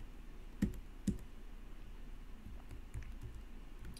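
Faint, sparse key taps on a chiclet computer keyboard, a couple of sharper clicks standing out against a quiet background.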